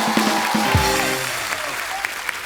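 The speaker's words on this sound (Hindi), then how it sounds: "जोरदार तालियां हो जाए." Studio audience applause on a comedy talk show, bursting in over a closing musical sting with a low thud, then settling into a softer ongoing clatter.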